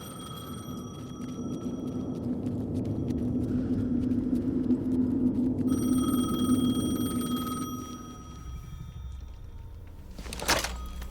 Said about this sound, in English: The phone again.